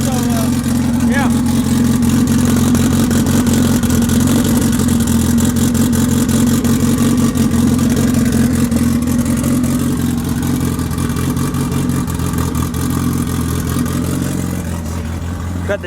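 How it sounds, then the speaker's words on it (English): A Honda Civic engine idles steadily after sitting unused for two months, a loud, continuous low rumble with a constant tone that holds for the whole stretch before easing slightly at the end. "Alright guys, the car started. It's been sitting for literally 2 months."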